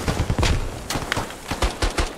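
Rapid bursts of gunfire in a video game, a dense run of close, sharp shots in quick uneven succession.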